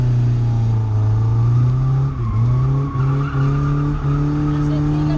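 A car drifting in a continuous loop, its engine droning at high steady revs while the tyres skid and squeal, the pitch dipping briefly as the driver changes direction, with voices talking over it.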